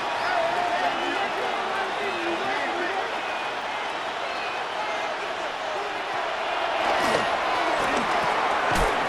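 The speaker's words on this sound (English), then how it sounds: "The Buffalo crowd being heard before third down" Stadium crowd in the Buffalo home venue of Madden NFL 26, a steady dense roar of many voices throughout, swelling slightly near the end with a few sharp thuds, under a broadcast commentator's talk.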